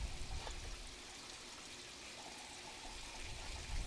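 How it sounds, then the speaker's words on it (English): Water pours into an aquaponics grow bed filled with Hydroton clay pebbles, a faint, steady trickling stream running evenly throughout with no talk. "It's pouring water in here,"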